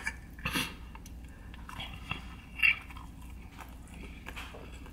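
Chewing and biting into a breakfast burrito with jalapeno, soft wet mastication sounds close to the mic with a few sharper bite transients over a low background rumble.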